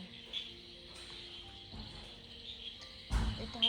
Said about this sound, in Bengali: চারিদিকে এত ঝিঝি পোকার ডাক,